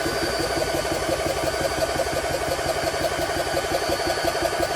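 A GX SC2/3 compressor pump runs at a steady, loud mechanical drone with a fast, even pulsing chug and a constant high whine.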